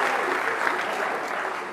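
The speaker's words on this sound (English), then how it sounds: "let's give him a round of applause" A gala crowd applauds a coach, a dense, even wash of clapping that fills the whole moment with no speech on top.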